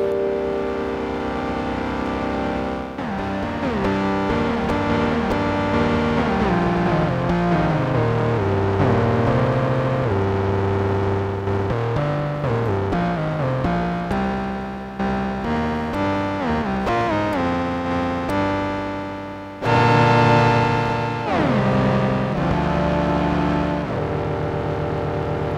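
Gamechanger Audio Motor Piano, a polyphonic synth whose tones come from spinning motors, plays a loud, continuous chordal passage of buzzing, whirring pitches that glide and shift as notes change, alone with no talking for about 25 seconds.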